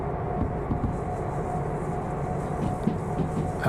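A train driven backwards downhill on a 1.3% decline in the Derail Valley simulator, giving a steady, loud low rumble of rolling stock and engine that holds without pause.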